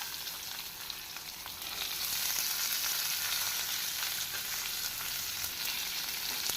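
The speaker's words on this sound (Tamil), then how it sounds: "இதனுடன் நாம் உரித்து வைத்த சின்ன வெங்காயத்தையும் பூண்டையும் போட்டுக்கொள்ளலாம்." Peeled shallots and garlic frying in a pan for a traditional Tamil garlic gravy, a continuous hissing sizzle that grows louder partway through and holds steady to the end.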